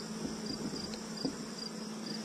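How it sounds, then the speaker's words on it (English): Honeybees feed on honey from a honeycomb, their faint, steady buzzing hum running unbroken throughout. "look at the bees eating up the honey"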